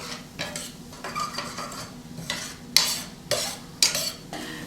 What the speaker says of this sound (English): we're going to add a couple tablespoons of unsalted butter. And just saute the onions